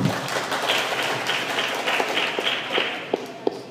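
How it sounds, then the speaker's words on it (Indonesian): Steady applause from an audience at a formal Depok city council session honoring Pak Nur, a wash of clapping held at moderate level for several seconds, with a few sharper individual claps standing out near the end. "Berikan aplaus buat Pak Nur."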